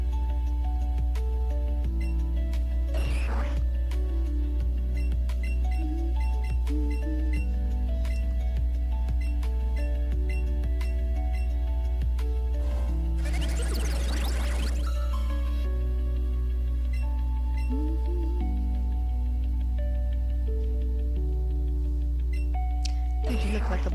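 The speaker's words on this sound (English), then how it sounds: "I'm gonna be hearing that ding dong noise in my sleep." A ding-dong chime from a Pokémon Gen 1 game recurs amid looping game music, with short bright tones sounding several times at moderate volume across the stretch.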